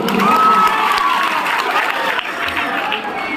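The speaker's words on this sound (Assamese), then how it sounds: "তাৰ কাৰণে এটা হাত চাপৰি" A live stage show audience breaks into applause and cheering, a dense crowd of clapping hands with some shouts, loud and sustained, then thinning slightly toward the end.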